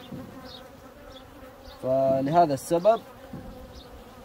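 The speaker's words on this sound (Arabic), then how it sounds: "كمية النحل كبيرة جدا ما شاء الله تبارك الله اللي في الفراغ" A large mass of honeybees hums faintly in an opened hive, a soft continuous buzz underneath a short burst of nearby talk.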